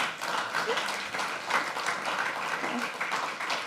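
A church congregation claps together during an interview segment in a worship service, a continuous moderate patter of many hands that rises and falls slightly throughout.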